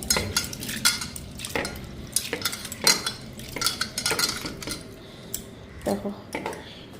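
Mixed mung and pea lentils are washed in a bowl, giving close, repeated clinks and rattling swishes in an uneven rhythm, with occasional speech.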